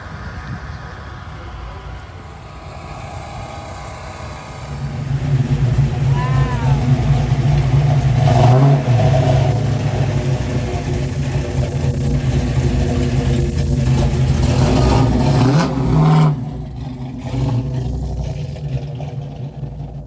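A 4-wheel drive Chevy truck with a winch, hood scoop and flame paint job, at a coastal car cruise in Gulfport, rumbles low, then swells into louder sustained revving for about ten seconds before easing back, with faint background voices.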